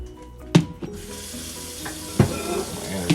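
A kitchen faucet runs water into a container in a steady, moderate hiss, broken by a couple of sharp clinks and splashes near the start and middle.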